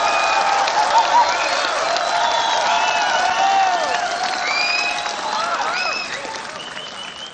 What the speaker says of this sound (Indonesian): Saya harapkan berikan aplaus, tepuk tangan yang semeriah-meriahnya kepada Prabowo Subianto.